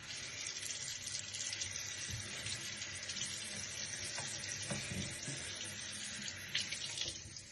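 Tap water runs steadily into a sink while ashes are washed off, a soft continuous splashing with a few small louder splashes near the end and no talking.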